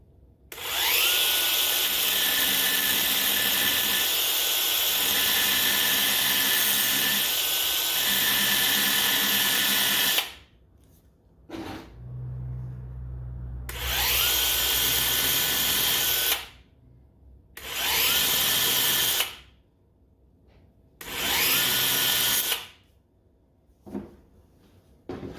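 A Ryobi 1/2 x 18 inch belt sander grinds a burr off metal: a long loud close whine, then several shorter on-off bursts separated by quiet gaps.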